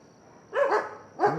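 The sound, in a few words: dog barking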